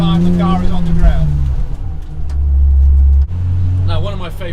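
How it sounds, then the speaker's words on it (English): A rally car drives up a race circuit access road, its engine a loud, close low drone that rises and shifts pitch through gear changes, with a voice talking over it. "we actually go up it in a rally car, on a rally"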